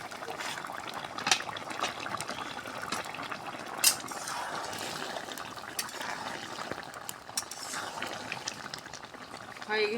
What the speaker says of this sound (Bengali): ঢাকনাটা খুললাম, বলক উঠে গেছে।